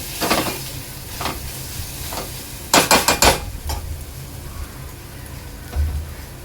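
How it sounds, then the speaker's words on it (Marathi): Spices cooking in oil for a sev bhaji curry give a soft sizzle under repeated spoon clinks and scrapes against the pan, with a quick cluster of metallic taps near the middle. "आता हे मसाले चांगले तेलावर शिजवून घ्यायचे आहे।"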